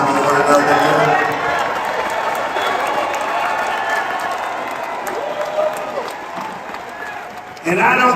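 A large crowd at a Turning Point USA rally in Glendale, Arizona breaks into loud, sustained applause and cheering. The roar holds steady for several seconds, eases slightly, then surges again at the very end.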